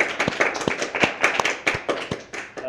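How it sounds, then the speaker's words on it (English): A small audience at a poetry reading applauds the featured poets. A few nearby people clap irregularly with distinct sharp claps, loud and close, and the clapping keeps going for the whole stretch. "Give them rounds of applause."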